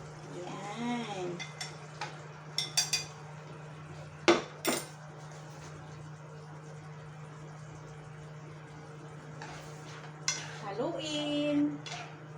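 Pasta gets stirred into sauce in a kitchen pan, with scattered clinks and scrapes of a utensil against the pan in short bursts over a quiet, steady hum.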